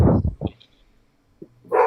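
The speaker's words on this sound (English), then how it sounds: "Sorry about the dog in the background" A dog barks in the background, a few close, fairly loud short barks clustered at the start and another at the end, separated by near silence.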